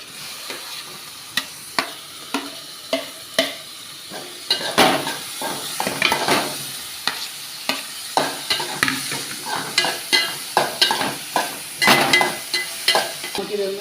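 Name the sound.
tomatoes added to frying onions in a pan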